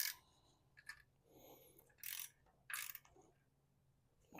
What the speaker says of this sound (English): Now you can go ahead and use your ratchet and do the same thing